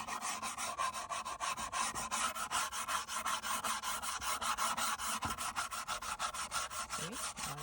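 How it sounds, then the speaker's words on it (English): A wooden pallet being made into a soap mould gets sanded to remove splinters, a close, steady back-and-forth rasping in fast regular strokes with no talk over it. "Them splinter things need to sand them over."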